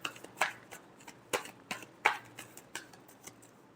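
Tarot cards being shuffled by hand in a series of short, crisp riffling bursts with brief pauses between them, close and fairly quiet in an otherwise still room.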